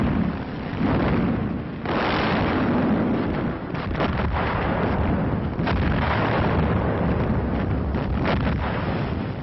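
Heavy artillery barrage during a tank assault on Syrian fortifications near the Sea of Galilee: a continuous rumble of explosions and booming blasts, with repeated bursts and a windy, noisy texture throughout.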